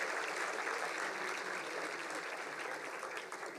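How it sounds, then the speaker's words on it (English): An audience at an annual day celebration gives sustained applause, a dense, even wash of clapping heard from a distance at low volume. "Can we please have a huge round of applause for this mega idea?"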